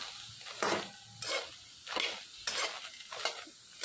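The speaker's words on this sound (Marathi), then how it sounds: "गवार पण छान खरपूस भाजून घ्यायची।" Cluster beans (guar) roasting in a pan, a soft sizzle broken by regular scraping stirs, roughly five strokes in a steady rhythm, fairly quiet and close.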